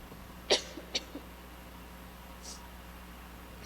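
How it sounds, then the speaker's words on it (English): A couple of short, sharp coughs close together during a public meeting, then a faint one a couple of seconds later, in an otherwise quiet room. "Okay, that should be enough coughing."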